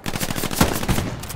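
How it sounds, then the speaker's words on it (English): Rapid machine-gun fire rattles toward the player in the World War II shooter Hell Let Loose, a steady close burst of repeated cracks with one louder shot partway through, no talking. "getting shot at."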